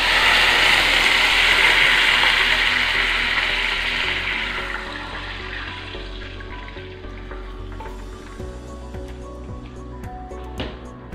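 Water pours steadily into a pot, about 1.5 cups for semiya payasam, with a bright, rushing splash that gradually softens, followed by a few light clinks near the end.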